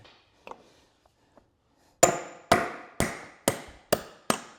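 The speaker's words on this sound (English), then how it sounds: "We just basically have to hit them out. And I'm going to use a large homemade punch." A large homemade punch is struck with a hammer to drive old bushings out of a Husqvarna lawn tractor. After a few faint taps, six loud, sharp metallic blows ring out at a steady rhythm, each with a brief ringing decay.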